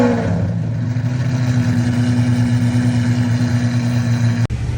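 A straight-piped Lamborghini Aventador SVJ engine drones with a steady, deep, loud rumble nearby, holding an even pitch for several seconds before it cuts briefly near the end.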